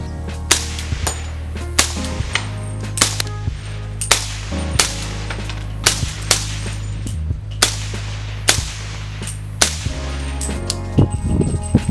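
A 300 Blackout short barrel rifle with a Knight's lower, Noveske upper, Knight's rail and suppressor fires about a dozen sharp shots at a steady pace over a continuous low engine-like drone, with a faint click at the end.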